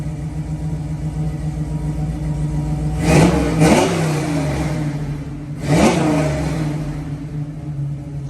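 A Ford Bronco engine with a custom exhaust idles with a low rumble, then revs hard to about 3,500 rpm twice in quick bursts, a third sharp rev following a few seconds later before settling back.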